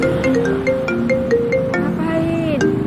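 Phone ringtone for an incoming call, a repeating electronic melody of bright beeping tones playing loud and close for a few seconds, with faint talk underneath.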